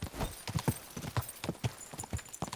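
Horse hooves clip-clopping at a steady riding pace in Kingdom Come: Deliverance II, a close, regular run of hoof falls with no talk.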